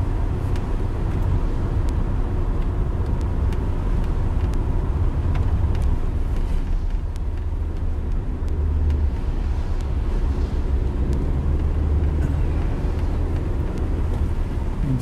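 A Suzuki Jimny 1.3 GLX three-door drives in fourth gear at low speed in a 30 zone, heard from inside as a steady engine drone and road rumble, constant and fairly loud with no talk.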